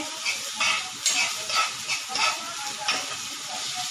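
A chili and onion mixture sizzles steadily in a hot pan, close and fairly loud, with rhythmic swells as it is stirred and no talk over it.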